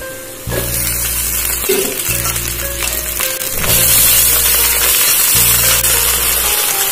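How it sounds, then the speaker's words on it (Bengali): Onions and Malabar spinach fry in a pan with a hilsa fish head, giving a steady close sizzle that swells and fades in long stretches, with a louder, brighter hiss late on. "হালকা নরম করে একটু ভেজে নেওয়া হচ্ছে"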